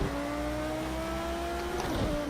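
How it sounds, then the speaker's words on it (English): GT3 race car engine running steadily on a tight go-kart track, a continuous droning hum with a slight pitch shift near the end, close and alone. "It's a go-kart track with a race car on it."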